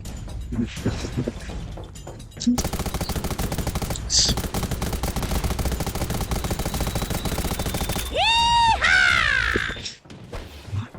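Rapid automatic gunfire in the video game Undawn, a dense, sustained volley running for several seconds after a short quiet lead-in, loud and close, ending in sharp high-pitched ringing and whining effects.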